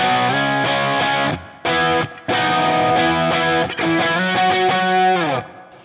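Distorted electric guitar chords with a thick, warm Greenback speaker tone, played in bursts with short pauses between phrases, loud and close.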